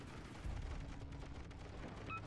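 Naval HE guns fire in the World of Warships video game, giving a deep booming report with a low rumbling tail and a brief metallic ping near the end.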